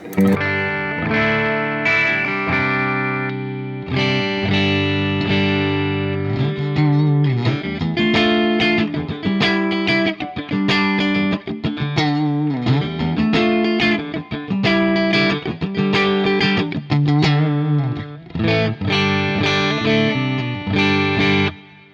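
A clean electric guitar through a Fender Deluxe clean amp tone plays chords and melodic runs continuously, loud and close, with a shimmering effect on the tone.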